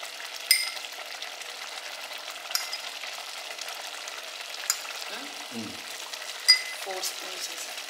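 Ghee poured into a pot of hot Guntur-style khichdi, with soft sizzling and frying noise under a steady kitchen hiss, punctuated by a few brief clinks and one short low stir or splash near the end.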